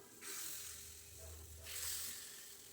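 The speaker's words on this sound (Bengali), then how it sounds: "তো আমি একে একে সবগুলো পিঠা এইভাবে ভেজে নিচ্ছি।" Pitha cakes for milk pitha fry in hot oil, giving a steady, close sizzle with a sharp hiss that swells twice as cakes are added.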